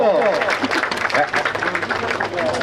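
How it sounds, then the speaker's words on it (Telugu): A crowd claps to welcome a guest at a tenth-class reunion. The applause is steady and close, with a voice talking loudly over it throughout. "ఒక్కసారి చప్పట్లు కొట్టాలని కోరుకుంటున్నాను చప్పట్లు"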